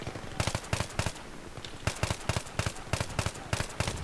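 Rapid gunfire in the Battlefield 3 video game, bursts of sharp automatic shots in quick rhythmic clusters with a short lull partway through, loud and without talk.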